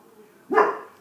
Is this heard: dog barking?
yes